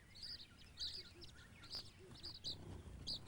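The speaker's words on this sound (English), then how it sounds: "Tiny finches like the red-cheeked cordon bleu are almost as common as sparrows." Small African finches such as red-cheeked cordon bleus, along with bronze mannikins and weavers, chirp at a garden bird table. Repeated high, thin calls come at moderate distance over a soft outdoor background, with no voices.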